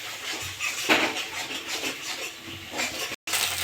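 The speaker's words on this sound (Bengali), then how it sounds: "এটা নেড়ে চেড়ে ভুজিয়া করে নেবো।" Eggs with salt and turmeric being stirred into a scramble in a hot oiled wok, a utensil scraping and rubbing the metal in repeated strokes, close and fairly loud, with a brief break near the end and no talking.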